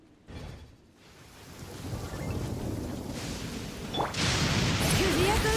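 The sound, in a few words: thunderstorm in the video game Genshin Impact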